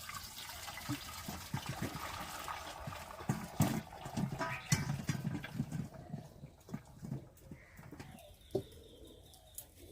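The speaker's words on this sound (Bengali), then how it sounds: "এবারে আমি চুবির মধ্যে দিয়ে ছেঁকে নেবো" Boiled ash gourd pieces draining in a strainer, with water trickling and dripping through in scattered splashes and soft knocks, fading to sparse drips near the end.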